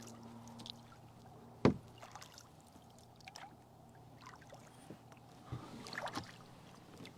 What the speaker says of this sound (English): enjoy our paddle on the estuary